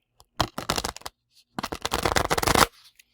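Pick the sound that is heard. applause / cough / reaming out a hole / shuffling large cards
shuffling large cards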